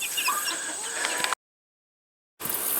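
Chickens cluck among a backyard flock, a rooster in the mix, steady and close with outdoor background noise, broken by a gap of silence midway.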